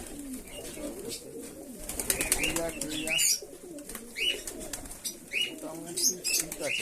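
Pigeons coo repeatedly nearby in their loft during the rainy-season moult, with soft chirps and a flutter of wings, while a person speaks briefly in between.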